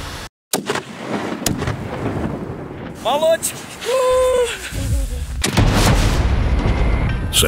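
A rifle shot rings out while hunting a Central Asian mountain goat on a windy mountain slope: a sharp, loud near crack, with further sharp bangs later, wind rumbling throughout and voices speaking in between.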